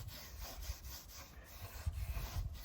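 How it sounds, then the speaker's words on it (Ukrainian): A cloth rubbing oil-wax by hand into wooden pool decking, soft quiet scrubbing strokes in an uneven back-and-forth rhythm, close and faint. "І отакими рухами ми починаємо втирати. масло виск"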